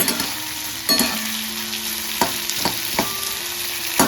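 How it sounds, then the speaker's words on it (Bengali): Chopped onions sizzle steadily in a frying pan alongside fried chicken, with several sharp scraping knocks of a spatula stirring and pressing them against the pan. "নাড়তে নাড়তে দেখবে তোমরা একটু হালকা হালকা করে প্রেস করলে অনিয়ন গুলো নিজে নিজেই ছেড়ে যাবে"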